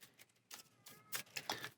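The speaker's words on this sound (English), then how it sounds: "And time to shuffle." Aeon's End Legacy cards shuffled by hand, a few quick papery riffling bursts in close succession, fairly faint and alone.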